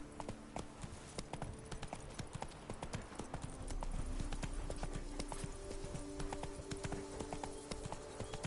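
Roach the horse's hooves clip-clop steadily along a path in The Witcher 3, a continuous rhythmic trot with game ambience underneath.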